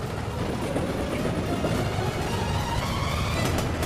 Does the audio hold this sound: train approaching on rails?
yes